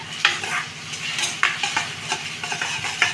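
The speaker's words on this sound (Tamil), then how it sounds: "நல்ல வெங்காயம் வசங்கின பிறகு தக்காளி போட்டுட்டேன் பாருங்க." Onions and tomatoes sizzling in a pan for paneer gravy, a steady frying hiss broken by a few sharp clinks of a spoon stirring, close and fairly loud with no talking.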